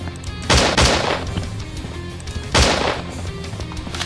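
Gunfire from the MK weapon in a video game: two loud bursts of rapid shots, about two seconds apart, each trailing off into a softer tail, with no talk over them.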